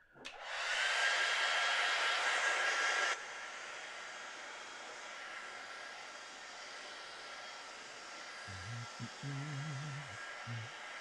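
A hair dryer blows on a foggy watercolour painting, a loud steady rushing whoosh that drops to a lower, softer roar after a few seconds and keeps running, with a brief low voice near the end.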